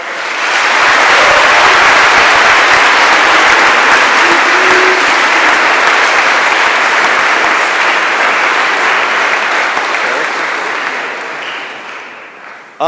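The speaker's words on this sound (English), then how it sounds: "Let's give a round of applause for all." Loud, sustained audience applause at a church vestry election meeting, dense clapping holding for about ten seconds before tapering off near the end.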